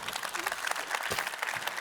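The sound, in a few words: audience applause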